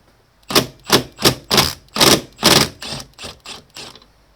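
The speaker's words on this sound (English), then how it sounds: "so we go in with a 14mm socket." Ratchet with a 14mm socket working loose the overtightened wiper arm nuts on a Subaru Forester, a close, loud run of about ten evenly spaced clicking bursts that fade over the last few strokes.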